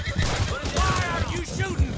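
Scattered gunshots in Red Dead Redemption 2, a few thudding reports under shouting voices and clatter, brief and busy.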